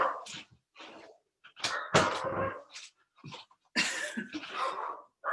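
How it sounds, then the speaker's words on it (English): Several dogs bark indoors in bursts of sharp, irregular yelps at close range, loud and uneven with short gaps between volleys. "in case you didn't hear my dogs barking"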